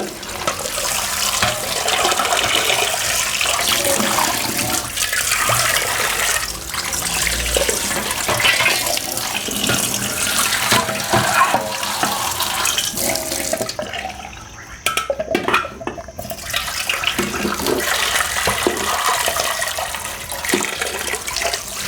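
Tap water runs steadily and loudly into a kitchen sink as dishes are rinsed by hand, with brief splashes and a short dip in the flow midway.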